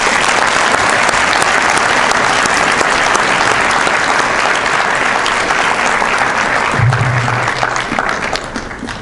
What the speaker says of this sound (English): Give these gentlemen another round of applause.